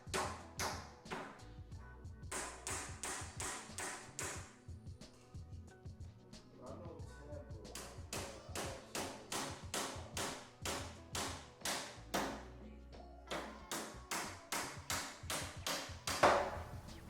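Small nails hammered into a wooden tufting frame, many sharp taps in quick rhythmic bursts with brief pauses, close and fairly loud.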